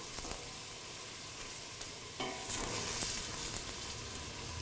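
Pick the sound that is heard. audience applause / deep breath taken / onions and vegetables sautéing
onions and vegetables sautéing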